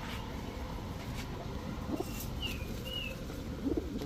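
A few brief bursts of wing flapping come from captive nafta pigeons, a male and female pair, over a steady noisy background, with a couple of thin whistly chirps.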